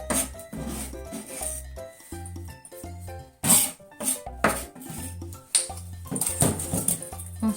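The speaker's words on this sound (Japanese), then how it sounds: "肉と玉ねぎを混ぜます。" Ground meat and onion for steamed meat buns are mixed by hand in a bowl, giving close, rhythmic squelching and scraping strokes in uneven bursts.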